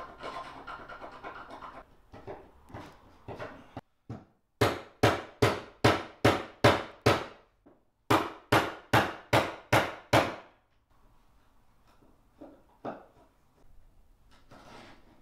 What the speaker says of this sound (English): An impact screwdriver to hit the screw just to free it up.